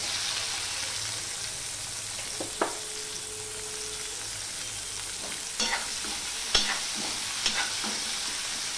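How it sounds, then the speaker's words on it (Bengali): Onion and garlic frying in oil after black cumin tempering for a prawn curry, producing a steady bubbling sizzle broken by several clinks and scrapes of stirring. "পেঁয়াজ রসুনটাকে ভালো করে ভেজে নেব।"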